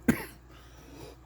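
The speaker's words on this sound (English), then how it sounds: "Bit of a coughing fit." A man coughs once, a short sharp burst near the start, followed by quiet room tone and a faint second onset at the very end.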